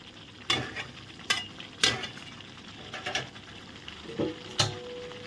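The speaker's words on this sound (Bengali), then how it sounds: "আলুগুলো দিয়ে ভালো করে নেড়ে চেড়ে আবার একটু ঢাকা দিয়ে দেব" Potatoes are turned through chicken curry frying in a pot, a steady low sizzle under about six distinct scraping and knocking stirs, nearby and without speech.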